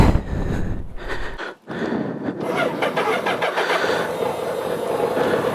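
A BMW K100 motorcycle engine is started on choke: the starter cranks briefly, there is a short pause, then the engine catches and settles into a steady, close rumbling idle with no talking.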